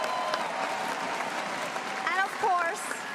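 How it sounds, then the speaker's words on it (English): Audience applause fills the space at a League of Legends esports event, steady clapping from a large crowd continuing under a presenter's voice. "big clap for that"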